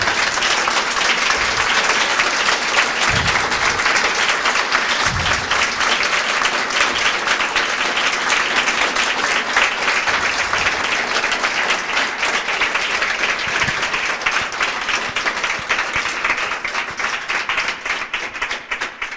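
A church congregation claps in dense, sustained applause during a Spanish-language sermon, with a few louder thumps near the front of the room.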